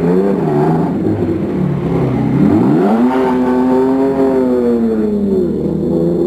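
A Formula One race car engine screams at full throttle on a qualifying lap, its pitch dipping and then climbing sharply as the revs rise through a gear, loud and close with no talk.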